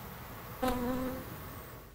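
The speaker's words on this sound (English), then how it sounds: "the most amazing and exciting sounds are sounds made by the insects" A grasshopper gives a single short buzzing chirp, faint and brief, against quiet outdoor background with no voices.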